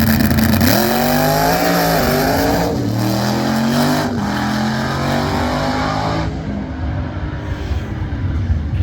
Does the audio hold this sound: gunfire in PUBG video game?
no